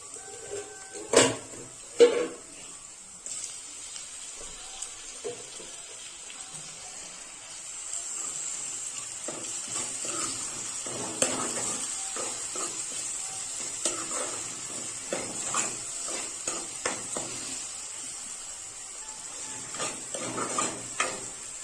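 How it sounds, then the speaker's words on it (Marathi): Tomato pieces go into a hot pan for a spinach and potato curry, giving a faint, steady sizzle with a few sharp clatters of a spoon stirring early on and light scraping throughout. "आता याच्यामध्ये टोमॅटो टाकायचा"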